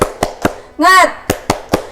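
Group clapping chant led by a teacher with students: sharp rhythmic claps in a patterned sequence, three claps, a brief shouted chant syllable, then three more claps, near and loud.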